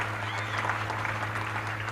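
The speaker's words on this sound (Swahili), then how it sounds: "Tujipigie makofi." An audience at a county youth engagement forum in Kitui claps in a brief burst of applause, heard against a low steady hum from the hall.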